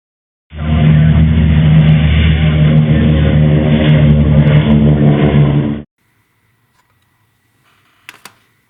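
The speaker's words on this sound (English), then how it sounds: "Shut up, compressor." An air compressor runs loud and steady for about five seconds, a dense continuous mechanical drone, then cuts off abruptly into near silence, followed by a couple of faint clicks.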